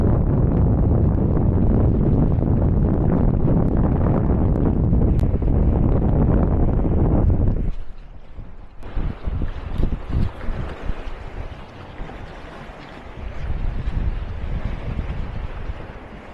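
Strong wind over a South Dakota lake roars heavily into the microphone for several seconds, then drops away to gusty buffeting and rushing outdoor noise.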